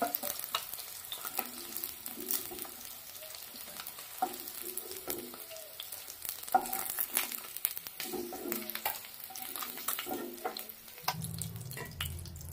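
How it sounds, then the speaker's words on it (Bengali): Fish frying in oil in a home kitchen, a faint, soft sizzle with scattered stirring clinks and scrapes, brief swells of crackle rising and fading, no talking. "লাল লাল করে মাছগুলো ভাজা হয়ে গেছে, এবার তুলে দেবো। দেখুন এভাবে ভেজে নিতে হবে।"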